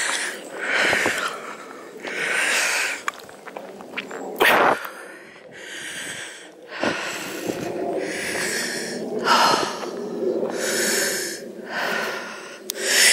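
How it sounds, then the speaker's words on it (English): Heavy, labored breathing close to the mic while walking uphill in woods, long rhythmic huffs and snorting exhales repeating steadily, with no talking. "you'll hear the heavy breathing"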